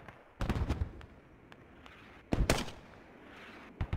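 Grenade explosions in Squad: two loud clusters of sharp blasts, each a rapid run of bangs, with a fainter burst at the end and distant pops between.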